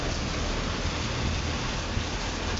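Steady rain falls with a dense, even hiss, and wind mixes in, with no voices.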